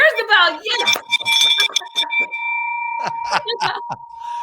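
A bell rings with a clear, sustained tone that lingers beneath excited voices talking and cheering.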